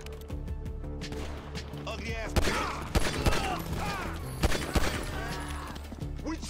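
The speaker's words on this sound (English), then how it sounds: "Shot him like right over your head, Lamar." Gunfire in the video game Grand Theft Auto V, with several sharp shots cracking out over a busy game soundscape and music, heard alongside talking voices.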